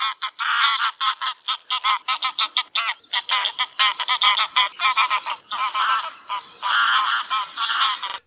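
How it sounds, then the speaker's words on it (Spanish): A flock of geese gives repeated loud, close honking contact calls in a rapid, overlapping series that runs throughout. "las llamadas que hacen los gansos"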